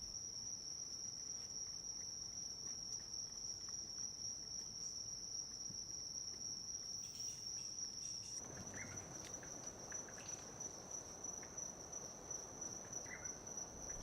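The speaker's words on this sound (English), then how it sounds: "Other fascinating creatures found in the forest, if one looks hard enough, are insects of various shapes and colors." Insects chirp continuously in a Latin American forest, a steady high-pitched trill that holds throughout, joined midway by a soft patter of background noise.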